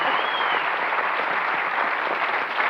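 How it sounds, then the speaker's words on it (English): A television game show studio audience applauds steadily and loudly, a dense unbroken wash of clapping with no voices over it. "give him a round of applause there."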